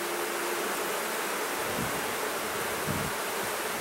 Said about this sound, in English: A decent amount of bees in this hive.